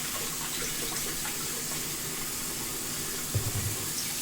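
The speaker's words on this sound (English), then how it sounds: "So that's why it sounds like I'm using the sink into a river or something, because it's full of water already" Tap water gushes steadily into a kitchen sink that is already full, a continuous rushing, river-like flow at close range with a brief splash and gurgle near the end.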